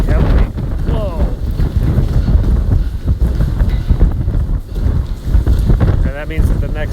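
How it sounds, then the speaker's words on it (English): Heavy typhoon wind from Typhoon Hato in Hong Kong, buffeting the microphone with a steady loud roar and rumbling gusts throughout, alone without voices. "So the wind's picking up like heavily."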